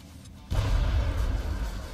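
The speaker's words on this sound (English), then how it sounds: "so let's give you a grenade." Video game grenade going off, a sudden deep booming blast after a short quiet lead-in, followed by a sustained low rumble that stays loud to the end.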